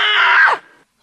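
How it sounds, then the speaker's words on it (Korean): A single loud, sharp human scream of fright lasts about half a second, then falls off quickly into a brief trailing sound and silence. "소리 지르는 거 봐."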